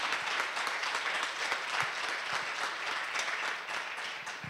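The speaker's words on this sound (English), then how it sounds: "if we've just given him another round of applause" A crowd applauds executive chef Raphael Francois of Le Cirque, a steady, dense clapping from a near audience that fills the whole stretch without talk.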